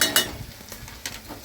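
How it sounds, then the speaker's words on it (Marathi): Potato bhaji being stirred as it fries in oil in a home kitchen pan, with sizzling under a few sharp scrapes and clinks of a spatula against the pan, short and close. "भाजी हलवून घेतली चांगली."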